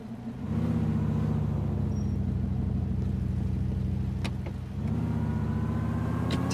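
A car engine in GTA 4 hums steadily with a low droning rumble, continuous and fairly close, dipping briefly before picking back up, with no talking over it.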